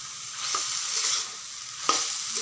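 Taro frying over low heat in its own released water, a soft steady sizzle with a couple of brief stirring scrapes, close and alone without talk.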